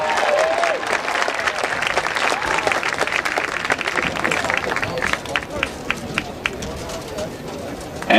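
A stadium crowd at a high school football game applauds the Ray-Pec band seniors, a dense, sustained wash of clapping and cheering that stays loud throughout, with an announcer's voice over it.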